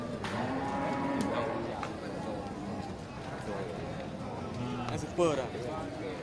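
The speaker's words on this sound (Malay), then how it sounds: "Indukan dari jenis sapi semental ya." A Simmental cow lows at a livestock market, with several drawn-out moos rising over crowd murmur and nearby voices talking throughout.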